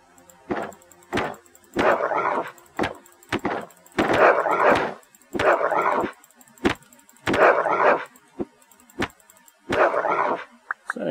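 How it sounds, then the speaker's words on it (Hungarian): A pack of dogs in the video game Keplerth barks repeatedly, loud, close bursts coming in quick irregular volleys with short yips and clicks between them, no talking. "Szerencsére csak sima kutya horda,"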